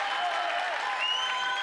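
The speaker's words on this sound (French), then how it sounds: "On peut applaudir, s'il vous plaît?" Brief burst of audience applause at a French science presentation, a steady dense wash of clapping from a crowd with a faint ringing tone running through it.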